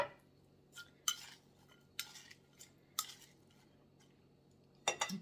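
Utensil scraping and clinking against a mug while napa cabbage salad with crunchy topping is tossed, several sharp taps and stirs spaced a second or so apart, quiet and close.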